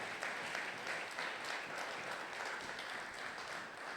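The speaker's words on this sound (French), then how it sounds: "Est-ce qu'on peut acclamer très fort le Seigneur?" A church congregation at a Sunday worship and thanksgiving service claps and cheers loudly for the Lord, a dense, sustained wash of applause from a large crowd that keeps going without a break.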